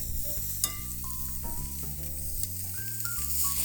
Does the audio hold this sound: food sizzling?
yes